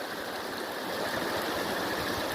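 Water of the Amran river flowing steadily, a constant broadband rush with no breaks, moderately loud and close, with no voices.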